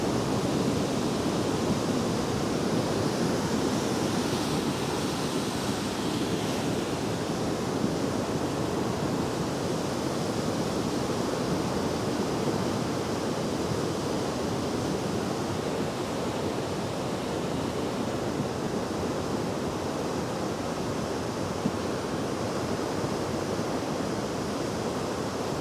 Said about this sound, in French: Regardez là-haut, on voit la lave torrentielle.